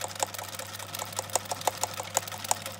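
A sewing machine stitches a small fabric pouch, giving a close, rapid mechanical clatter of needle strokes in an even rhythm with a low steady motor hum underneath, no talking.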